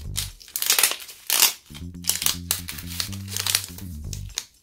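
A crinkly Twinings tea packet is handled and torn open, producing loud, irregular bursts of crackling plastic crinkles, with a low hum underneath.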